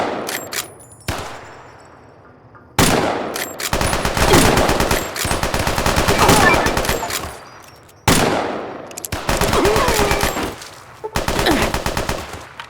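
A big gun in the video game Fallout New Vegas fires in two long, loud bursts of rapid shots, each roaring on for several seconds, with short pauses between.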